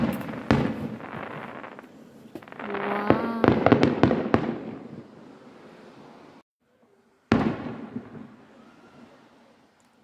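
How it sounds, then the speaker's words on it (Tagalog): Neighbourhood fireworks in Japan boom and crackle outside in a series of bursts, with a rapid cluster of pops midway, then a pause and one last loud blast that fades. A voice exclaims briefly. "May fireworks dito sa aming mga day."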